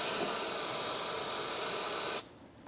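Parts or brake cleaner sprays from an aerosol can onto the rusty axle seal area of a 2008-2013 Nissan Rogue, a loud, steady close hiss lasting about two seconds before cutting off.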